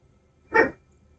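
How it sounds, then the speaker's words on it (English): A single sharp dog bark rings out once, fairly close, against an otherwise quiet indoor background. "Oh, the dog is barking."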